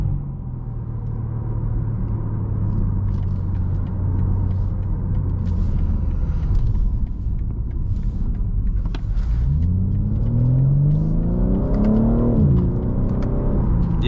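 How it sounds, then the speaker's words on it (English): Exhaust of a 2024 BMW M3 Competition xDrive heard from inside the cabin, a steady low droning rumble that swells as the car accelerates, with the engine note rising sharply and then dropping. "The exhaust sounds good. I feel like the exhaust is a bit louder than it is in mine stock."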